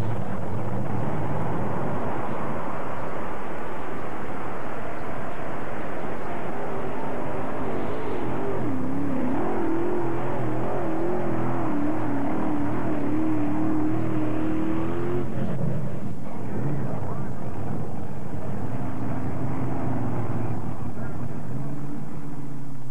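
Modified pulling tractor engine at a 1992 tractor pull, a loud continuous roar with rising, wavering pitch midway, crowd and announcer-style talk mixed in underneath throughout.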